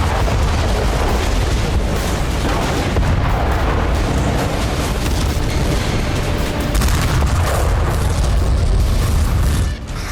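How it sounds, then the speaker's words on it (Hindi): A loud, sustained roar of a huge naval explosion at sea, with dense rumbling booms filling the whole stretch and no voices. "सर्वशक्तिमान नौसेना ने समंदर में महाधमाका कर दिया"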